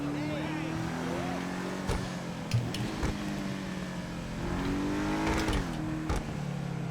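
A car engine in the video game GTA 5, an Albany V-STR sedan, hums and revs in steady rising and falling tones, moderately loud and continuous, with a few brief clicks.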